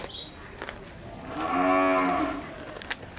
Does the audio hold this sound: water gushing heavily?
no